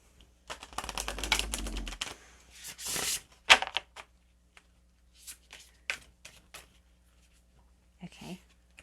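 Angel cards are shuffled by hand in a quiet room, with a dense burst of riffling and flicking followed by scattered soft taps and card slaps.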